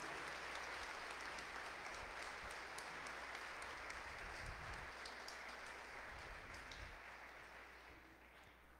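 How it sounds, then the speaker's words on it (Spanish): Congregation applauding during Sunday Mass, a steady, even wash of many hands clapping that sounds distant and faint, fading slightly toward the end. "Un aplauso a Jesucristo"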